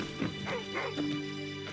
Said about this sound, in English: Another dog, the barking at me.